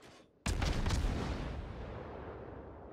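The New York battleship fires its main guns blind in World of Warships: after a short quiet moment, a single loud, close cannon blast bursts out and decays into a long rolling rumble.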